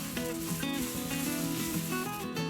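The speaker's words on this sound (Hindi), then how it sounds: "पोटैटो को अच्छी तरह से भून लेंगे।" Potatoes with garam masala fry in a pan with a continuous, low sizzle and occasional stirring, heard beneath steady background music.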